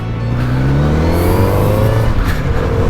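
Kawasaki Z900RS motorcycle engine drones loud and steady on a night ride, its pitch climbing as it revs under continuous rushing wind noise.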